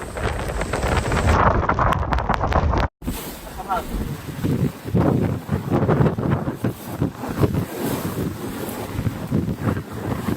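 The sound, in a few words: Typhoon Bebinca winds in Shanghai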